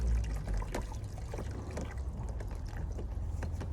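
Water poured into the bucket of a manual washing machine, a soft continuous splashing trickle with small irregular gurgles, fairly quiet and close, without speech.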